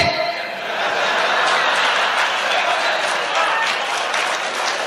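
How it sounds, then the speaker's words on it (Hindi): An audience claps steadily at a Hindi comedy poetry gathering, a dense and fairly close wash of applause lasting the whole stretch, with some laughter mixed in. "तालियां गलत जगह बजा लिया आपने"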